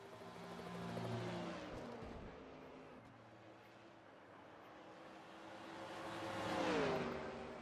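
Race cars in a NASCAR racing video game, a Texaco Havoline Ford among them, droning engines swelling as cars pass by twice, fairly faint and continuous.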